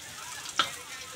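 Sliced ginger and crushed garlic sautéing in a pan for fried eggplant with minced pork, a steady soft sizzle with a single sharp spatter or utensil tap midway, faint and close.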